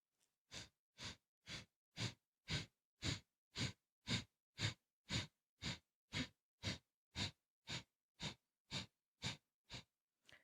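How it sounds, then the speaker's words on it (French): Rapid, rhythmic breath of fire in a kundalini yoga practice: about twenty sharp, evenly spaced nasal exhalations in a row, close and clear with no talking. "Continuez avec la respiration du feu."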